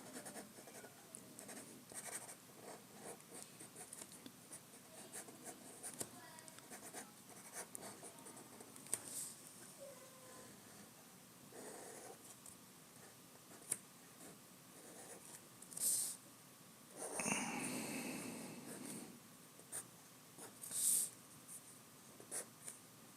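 Pen inking final lines over a pencil sketch of Spider-Man on paper, heard as soft intermittent scratching strokes close to the mic, with a couple of louder rustling passes near the end.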